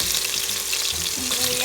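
Garlic sizzles in a hot pan while being stirred, a dense close frying hiss with scraping stir strokes over a brief stretch and no talking.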